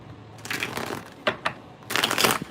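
Tarot cards being shuffled by hand, close and crisp, in a few short riffling bursts separated by brief pauses, with a couple of soft taps between them.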